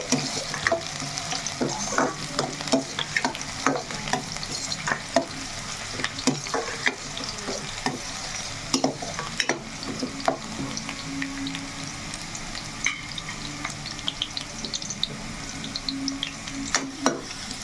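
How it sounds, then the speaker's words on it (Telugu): Onions browning in hot oil in a kadai for mutton keema, a steady close sizzle punctuated by frequent clacks and scrapes of a spoon stirring throughout, with no talking. "చక్కగా ఉల్లిపాయ కొంచెం మనకి ఫ్రై అవ్వాలి బ్రౌన్ కలర్లో రావాలి"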